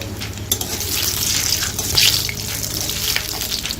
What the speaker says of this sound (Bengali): গোটা গরম মশলা আর শুকনো লঙ্কা তেজপাতা দিয়ে দিলাম